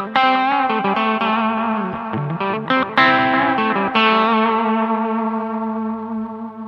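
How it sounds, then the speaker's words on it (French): Electric guitar played through distortion, echo and chorus effects, a sequence of close, bright picked notes and chords that ring out and decay over several seconds, with no talking. "Est-ce que vous entendez la guitare aussi?"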